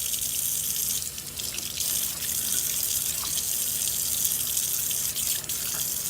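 Water runs from a tap to rinse a scrubbed surface, a steady, close splashing stream with no talk over it.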